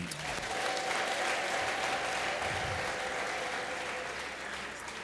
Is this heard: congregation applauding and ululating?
yes